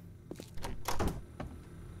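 Door opening in the survival video game 7 Days to Die, a few soft thuds and creaks with a louder clunk near the middle, all fairly quiet.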